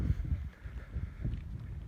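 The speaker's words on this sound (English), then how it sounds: "it's quite windy as well actually, so I apologise for the noise that wind is getting in the way" Gusting wind buffets the microphone outdoors near train tracks at Birkenau. Low, irregular rumbles and thumps come through close and moderately loud, with no voices.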